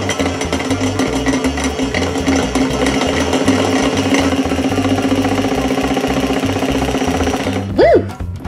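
A toy food mixer spins steadily after its button is pressed, giving a continuous whirring motor hum that stays even for several seconds, followed by a brief rising and falling voiced exclamation at the end.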